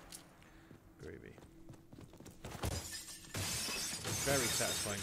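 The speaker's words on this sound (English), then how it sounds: "Very satisfying glass to smash." Glass smashing in the video game Trepang 2, a sharp bright shatter partway through that leads into continued crashing and clatter, with footsteps and someone talking over the game sound.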